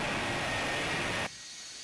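Lockheed Martin F-35B Lightning II stealth fighter jet lifting off, a loud, steady broadband jet roar close by that cuts off abruptly partway through.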